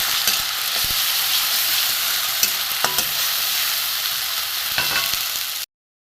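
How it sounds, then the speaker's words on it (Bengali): A ginger, garlic, onion, tomato and coriander paste with whole garam masala sizzles steadily in oil, punctuated by sharp spatula clacks and scrapes against the pan before cutting off abruptly. "মশলাটা একটু কষে নেব"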